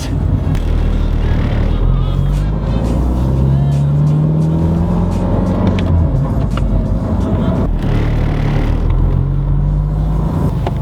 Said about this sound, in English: You can like hear the whole engine.